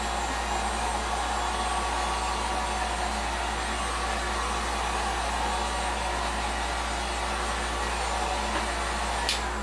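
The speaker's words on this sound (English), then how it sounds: "We'll give this a quick force dry with my heat gun." A heat gun force-drying paint on a scale model spaceship's upper saucer blows as a steady, loud, even whoosh of hot air, unbroken from start to finish.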